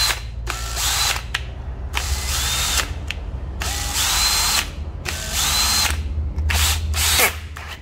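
Japanese 6901 cordless hammer drill with a 10 mm chuck, three functions, running in repeated bursts of whirring motor and ratcheting clatter with short pauses between, loud and close, no talk.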